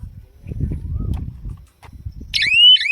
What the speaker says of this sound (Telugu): మన బజర్ ఎలా మోగుతుంది